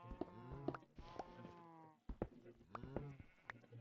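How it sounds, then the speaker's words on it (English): Cows mooing in a Minecraft world, drawn-out lowing calls repeating in quick succession, moderately close and fairly quiet, with a short gap midway before more calls follow. "I hear cows."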